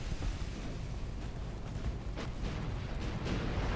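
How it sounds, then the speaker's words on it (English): Distant battleship gunfire in the naval game Ultimate Admiral Dreadnoughts, a low rumbling boom with a couple of muffled reports rolling under steady background noise. "he's opened fire on my closest battleships"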